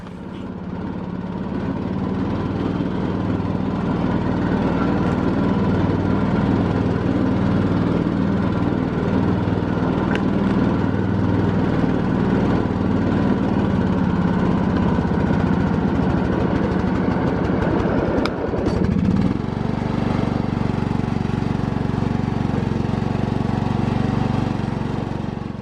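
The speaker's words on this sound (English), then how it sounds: "I put more gas in it. The engine runs flawlessly. Doesn't sputter, doesn't hesitate." A lawn mower engine runs smoothly at low RPM without sputtering, its deep, steady drone close and continuous throughout, with a brief rough disturbance near the end before settling back.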